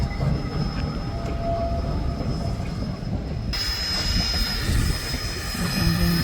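Southern Pacific steam locomotive Engine 18 runs nearby, a continuous heavy rumble with hissing and a steady high metallic whine from the wheels and machinery, holding loud throughout.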